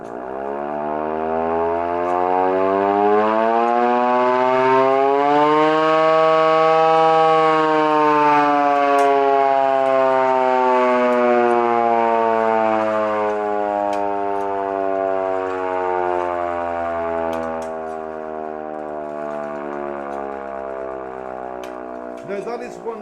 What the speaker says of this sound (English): Now that is one by hand, isn't it? This is a portable Airaid Siren.